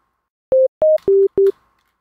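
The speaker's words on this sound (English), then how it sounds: "I'm going to load up the default preset, which is just a sine wave." The default sine-wave preset of the Citrus synthesizer in FL Studio plays four short, pure, loud tones in quick succession at slightly differing pitches, with nothing else around them.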